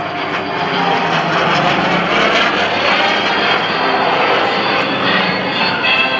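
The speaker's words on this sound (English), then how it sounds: "Pulls the Corsair up into the vertical, and she screams back down to earth." An F4U Corsair propeller fighter plane roars loudly and continuously in a dive at an airshow, its engine noise a dense, sustained howl with a faint whistling edge.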